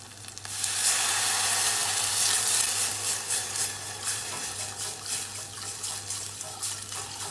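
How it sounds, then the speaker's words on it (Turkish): Water poured into tomato paste that has been sautéed in a pan, giving a loud, steady hissing sizzle with a running-water rush that eases slightly over time, close by with no talk. "Salça kokusu geldiğinde su ile açalım."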